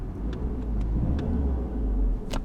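A VW Golf Mk6 car engine idles steadily after starting, with a low, even rumble close by and faint clicks over the running engine.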